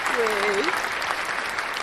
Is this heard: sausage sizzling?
no